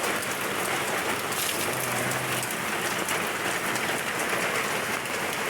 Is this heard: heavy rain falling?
yes